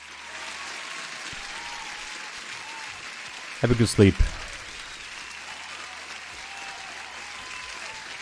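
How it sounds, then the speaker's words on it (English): Applause plays steadily and faintly under a live futures trading stream, a continuous wash of clapping, briefly interrupted by a short spoken line partway through. "huge applause"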